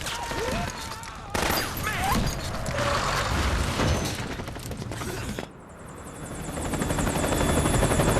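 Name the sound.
helicopter in Metal Gear Solid 4 video game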